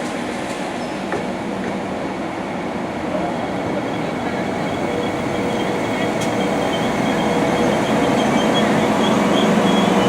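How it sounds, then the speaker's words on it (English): A Pacer diesel train pulls into a station platform, a steady rumble of rolling stock slowly growing louder over ten seconds, with faint rail squeal and no speech. "our train's arriving now"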